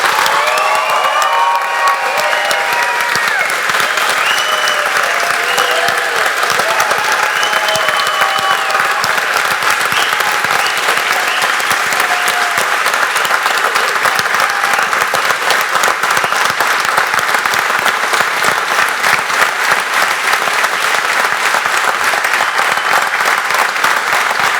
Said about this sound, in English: So I'd like you to clap. I'd like you to yell.